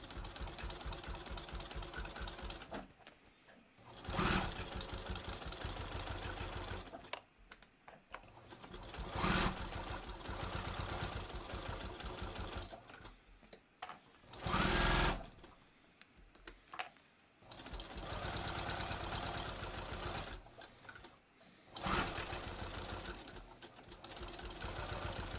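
A sewing machine stitches through clear vinyl for a zippered project bag, running in rapid mechanical bursts separated by short pauses, fairly quiet and close, with no talking.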